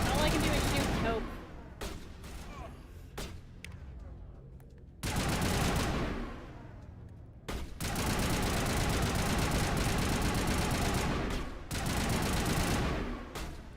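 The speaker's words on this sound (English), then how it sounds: "all I can do is shoot and hope" Gunfire in Mass Effect Legendary Edition on PS5: dense, sustained bursts of weapon fire with a few brief pauses, loud and continuous over game battle noise.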